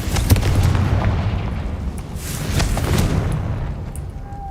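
The Confringo explosion spell in Hogwarts Legacy gives a sharp crack followed by rolling booms and crackling blasts, loud and close, fading toward the end.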